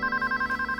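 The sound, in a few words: landline telephone ringing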